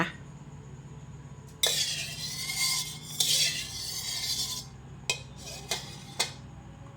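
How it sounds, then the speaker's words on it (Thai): A wok is set on the stove and vegetable oil poured in while preparing Thai stir-fried glass noodles with cabbage; metal scrapes and clinks ring out close by, with a hiss and several sharp knocks over a steady low hum. "ตั้งกระทะนะคะใส่น้ำมันลงไป สมพรใช้น้ำมันพืชนะคะ"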